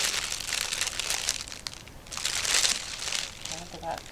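Cellophane wrap around a chocolate hot chocolate bomb gathered up by hand, giving a steady bright crinkling and crackling that swells and fades over a few seconds, close and fairly loud, with faint background voice.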